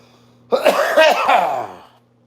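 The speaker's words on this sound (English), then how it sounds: "I'm trying not to cough so damn much" A single harsh, raspy cough fit lasting over a second, close and loud, with a throaty clearing quality, then quiet.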